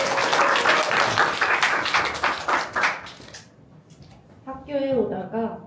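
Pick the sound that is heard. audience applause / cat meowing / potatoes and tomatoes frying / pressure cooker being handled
audience applause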